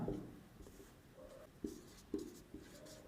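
Faint marker or chalk strokes on a board during a Hindi history lesson, several short scratchy strokes in an irregular rhythm, close but quiet, with no talking.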